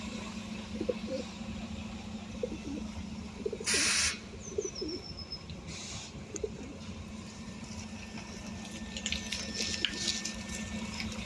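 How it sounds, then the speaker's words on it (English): Pigeons give soft, low coos while being fed at a bus stop outside Ealing Hospital in London, close by over a steady street hum, with a brief rushing noise partway through. "So feeding birds at Ealing Hospital's bus stop."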